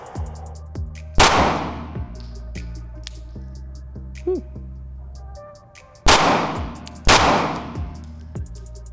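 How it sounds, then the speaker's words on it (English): A Glock 19X pistol fires at a shooting range: three loud, sharp shots, one early and two close together near the end, each with a ringing tail over a steady background of range noise. "this is what happened the first time I shot the gun in the range"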